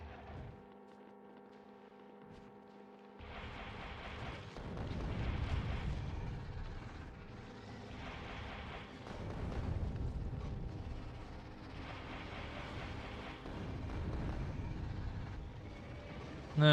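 Rockets exploding on enemy nests in Factorio: Space Age: after a quiet opening of steady factory hum, a sustained barrage of rumbling blasts rolls in waves, loud and continuous, with no talking.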